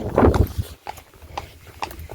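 A horse's hooves step unevenly on a lane, a few close muffled thuds and clops with one heavier strike at the start, lighter steps trailing after.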